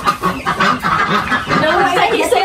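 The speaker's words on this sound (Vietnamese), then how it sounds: "Gà có hai gà trống luôn, gà trống nè" Chickens and a rooster cluck on a Vietnamese chicken farm, busy overlapping calls close by under people talking.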